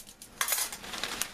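Metal camping cutlery, forks and a spoon, is handled, giving a few faint, quick clinks and rattles, with a brighter clatter near the middle, close by and otherwise quiet.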